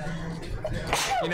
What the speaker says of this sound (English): If you can even hear anything he says over my sneezes.